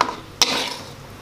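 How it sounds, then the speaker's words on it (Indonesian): Papaya stems stir-fried in a pan for a Torajan dish with chili and petai, a brief close scrape of a utensil over a steady soft sizzle. "Tumis batang pepaya."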